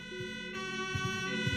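A steady wailing ambulance siren in a Roblox video game, with layered harmonic tones, continuous and fairly loud, with low thuds underneath.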